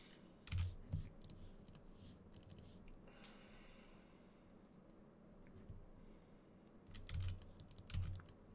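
Typing on a computer keyboard, with two short bursts of quick clacking keystrokes near the start and end and a quieter stretch of soft ambient noise between them.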